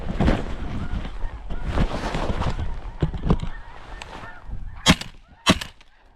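Snow geese honk during a spring conservation hunt in a North Dakota blizzard. There are many overlapping calls from a flock, with wind buffeting the microphone and a few sharper, louder honks near the end.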